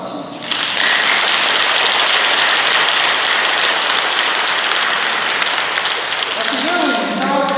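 An audience at a Lenten special lecture breaks into dense, sustained applause that fills the room for about six seconds before a voice starts speaking again.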